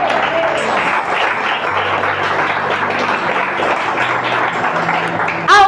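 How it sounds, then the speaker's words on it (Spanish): A congregation applauds loudly during a church sermon, with dense, continuous clapping filling the room and steady background music beneath, ending with a brief louder burst. "dale un aplauso al Señor"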